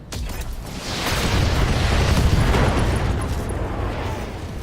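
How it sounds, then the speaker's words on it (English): A mech's ammunition detonates in a video game battle, a deep rumbling boom that swells and sustains for several seconds, filling the low end with a broad roar before slowly fading. "we got an ammo explosion"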